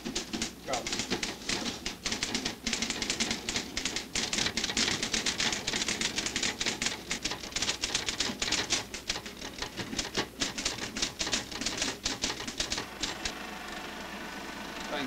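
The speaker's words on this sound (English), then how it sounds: "Find the correct place again. And continue to type." Rapid keystrokes clatter on a keyboard in a fast, irregular stream of close clicks, with a brief slowdown near the end.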